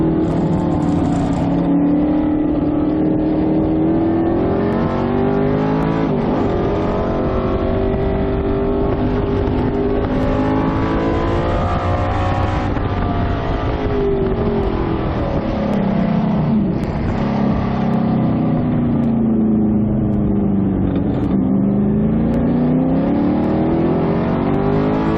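Vintage race cars, including a white Corvette, race at Circuit of the Americas, with loud engines revving, upshifting and dropping in pitch as they pass on the track, continuous throughout.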